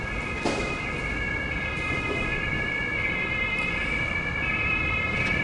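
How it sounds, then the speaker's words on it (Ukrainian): An emergency vehicle siren, ambulance or police, wailing on a Frankfurt street, a steady tonal wail of moderate loudness over traffic noise. "Блін, щось швидкі роз'їздились, чи то поліція, чи то швидкі."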